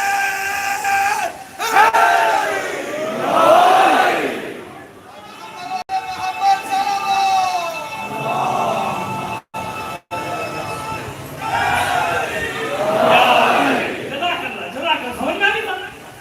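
A crowd at a majlis in Lahore chants slogans in loud, surging waves of massed voices, with brief breaks between bursts and rising shouts.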